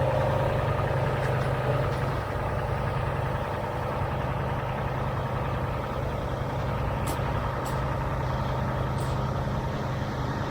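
A concrete pump truck idles steadily at a garage during a floor pour, a continuous low diesel drone with a faint hum, close and unbroken, with no voices.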